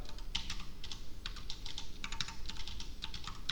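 Rapid keyboard typing on a computer while coding in Java, with steady clusters of crisp key clicks in bursts and brief pauses, close and moderately loud, no speech.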